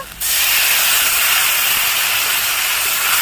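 Water splashed into a pan of frying turmeric and dry spices bursts into a loud, steady hiss that starts abruptly and carries on alone at close range for a few seconds.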